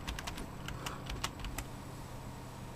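Rapid, light key clicks on a computer keyboard during a Windows XP setup, typed in short bursts over a steady low room hum, fairly close and moderately quiet.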